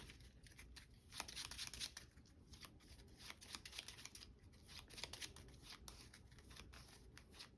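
A deck of cards is shuffled repeatedly during a card game, with crisp riffling bursts recurring through the clip at close range, no talk.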